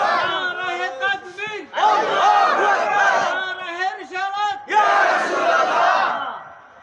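A large crowd at a Bengali waz gathering shouts takbir in three loud, forceful unison bursts, with brief pauses of murmuring between them.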